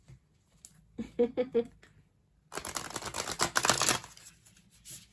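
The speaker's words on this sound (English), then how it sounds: "So I'm going to shuffle these right here." Tarot cards being shuffled by hand during a reading: a few short riffling bursts, then a longer run of dense crisp card shuffling, close and moderately loud, with no talk over it.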